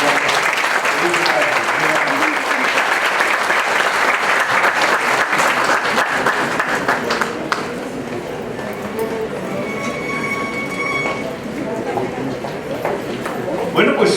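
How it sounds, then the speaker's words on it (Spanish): A large audience at a hospital's fortieth-anniversary ceremony applauds loudly and continuously, a dense wash of clapping that eases slightly partway through and carries on steadily to the end. "con este aplauso decimos gracias."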